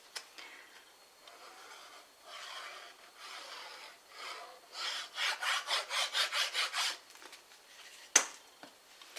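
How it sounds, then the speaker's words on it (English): A paper card panel is folded and burnished: soft scraping rubs build into a quick series of rhythmic strokes, then one sharp tap near the end, all close and quiet. "I'm actually going to fold and burnish that one"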